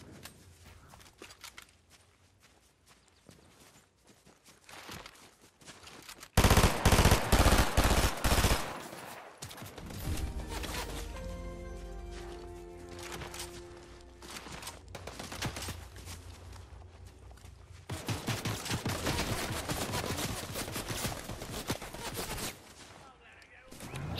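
Bursts of rapid gunfire from a ranked-match shooter video game, loud clusters of shots crackling around a quieter stretch with a low rumble, then another long sustained burst.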